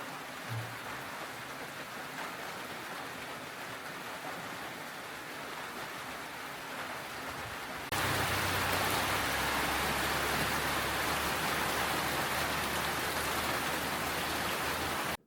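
Heavy rain falls on Flores, Indonesia, a dense, steady hiss that grows suddenly louder and fuller halfway through, then continues unbroken with no voices.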